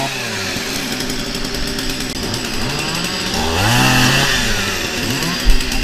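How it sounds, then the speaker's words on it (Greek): Two chainsaws cutting during volunteer road clearing, engines droning loud and close with rising and falling revs as they bite into wood, ending in a brief sharp thud. "Με δύο πριόνια."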